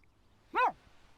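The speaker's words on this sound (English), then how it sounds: "Is that you barking?" A dog gives a single short bark or yip, fairly close, against a quiet background with no other sounds.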